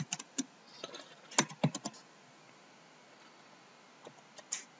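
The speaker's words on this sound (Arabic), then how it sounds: "نكتب بجوجل جافا" A few sharp computer keyboard key clicks while typing a search query, clustered in short bursts with long silent gaps, close and fairly quiet.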